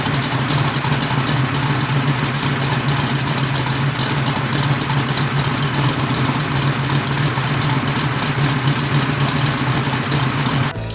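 A 500hp stroker V8 in a square-body truck rumbles steadily at a loud, throaty idle through its exhaust, with a deep lopey pulse throughout.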